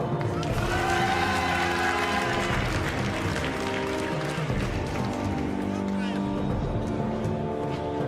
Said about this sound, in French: je vais vous demander de beaucoup l'applaudir s'il vous plaît